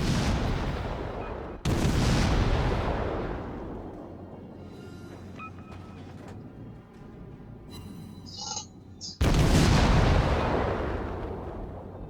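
Loud, booming ship cannon blasts in a naval video game, firing at an enemy aircraft carrier, with two heavy barrages separated by a quieter stretch of rumbling and mechanical effects.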